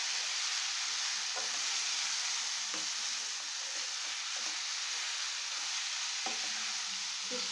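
Vermicelli fries in seasoned tempering oil with a constant bright sizzle, punctuated by a few soft scraping knocks of a spoon stirring the pan, near and unbroken.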